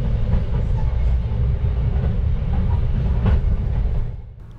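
The Tawang Jaya Premium 152 passenger train runs past with a loud, steady rolling rumble and rattling wheels, the noise easing off at the very end.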